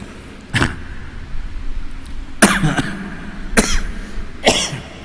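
Four sharp coughs spaced a second or so apart, close and fairly loud, with quiet room tone between them.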